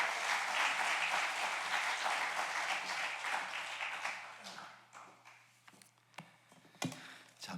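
A church congregation at a special dawn prayer service applauds, a loud dense clapping that gradually thins and fades into scattered individual claps and small knocks over several seconds, with a faint voice in the background.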